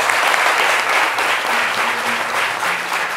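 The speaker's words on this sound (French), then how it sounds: "Je pense qu'on peut applaudir." Steady, even audience applause at a French-language midday broadcast event, a full room clapping continuously throughout with no break, plus a faint voice underneath.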